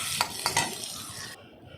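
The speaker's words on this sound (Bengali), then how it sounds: "দিয়ে নেড়ে চেড়ে সামান্য একটু জল দেবো যাতে মশলাটা পুড়ে না যায়" Turmeric and chili powder sizzle in a hot pan as a utensil stirs them, a quiet crackling hiss with a few scraping strokes near the start that fades out toward the end.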